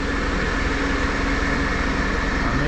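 A tractor engine idles before spraying summer raspberries in flower, giving a steady, loud, continuous low rumble with a constant hum and no talk over it.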